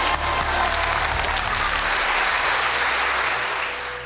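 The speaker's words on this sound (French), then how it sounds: "Applaudissements s'il vous plaît" Sustained applause from an audience of volunteers gathered at a house-rebuilding worksite after a fire, steady and dense clapping throughout, fading slightly at the end.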